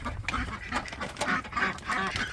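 Ducks on a farm quack in repeated bursts, several calls overlapping at close range with a little background noise.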